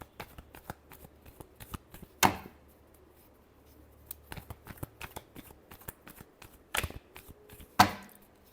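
Tarot cards are shuffled in soft, rapid riffling bursts, with a few louder sharp snaps as the deck is squared, close and quiet in an otherwise silent room.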